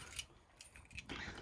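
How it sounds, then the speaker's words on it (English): Two keys jangle and click faintly at close range in a few short metallic bursts while the outdoor table compartment of a Windsor Rapid 521 SE camper van is unlocked. "This uses 2 different keys, which is kind of annoying"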